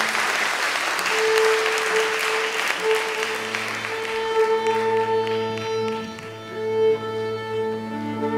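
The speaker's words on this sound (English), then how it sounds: "Let's give them a round of applause." Applause from a charity concert audience swells early and then fades as a choir begins singing sustained tones, the clapping thinning out beneath the voices.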